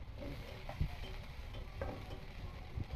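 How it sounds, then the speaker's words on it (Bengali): Bengali five-spice tempering (panch phoron) crackling in hot oil for dal: a faint, low sizzle with occasional soft clinks and stirring knocks. "এইভাবে আমরা ডালে ফোড়ন দেই। এই যে 5 ফোড়ন দিলাম।"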